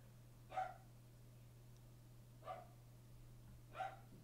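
A frightened dog barks three times during fireworks, each bark short and somewhat distant, spaced about two seconds apart over a steady low electrical hum.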